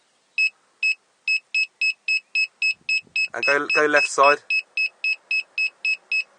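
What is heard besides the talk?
reversing parking sensor beeping on a Chrysler Grand Voyager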